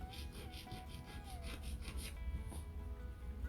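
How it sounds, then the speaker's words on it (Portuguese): A fine file rasps along the side of a gel stiletto nail in quick, close back-and-forth strokes, a soft scratchy rubbing that pulses rhythmically and then gives way to quieter scraping. "E eu vou lixar reto até encontrar com a minha ponta."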